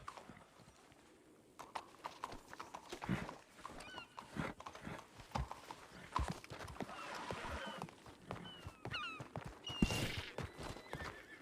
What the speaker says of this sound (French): Qui a appelé son cheval?